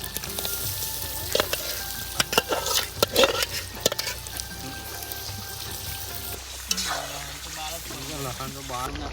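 Tomato paste added and stirred in a pan for Gujarati tuver totha, steady close sizzling and frying with scraping stir strokes and bubbling, a voice speaking over part of it.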